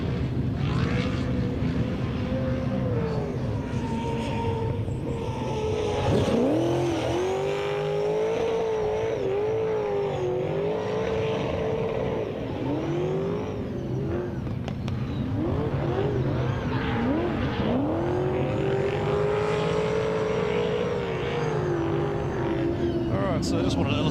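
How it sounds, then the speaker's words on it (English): Supercharged Chevrolet LSX 427 V8 in a Nissan S15 drift car at a D1NZ drifting championship qualifying round, Manfeild circuit, loud and sustained with rising and falling revs throughout, with a voice talking over it. "let's turn this one up and listen to the supercharged Chevrolet sing"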